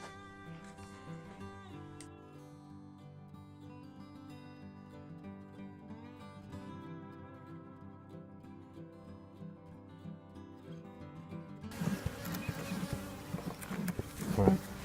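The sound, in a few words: bees buzzing around a beehive during beekeeping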